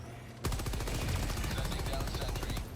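Stalwart machine gun in Helldivers 2 fires one sustained rapid burst, a loud evenly paced rattle of shots that starts abruptly and runs to the end.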